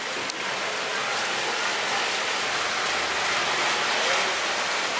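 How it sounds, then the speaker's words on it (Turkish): Heavy rain pouring down steadily, a loud, dense wash of drops hitting surfaces close by, constant throughout with no pauses and no voices. "Arkadaşlar birden inanılmaz bir yağmur başladı."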